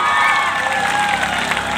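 A crowd at a youth festival in Haryana cheers and shouts in a steady, dense roar, with whistles or high voices cutting through the continuous noise.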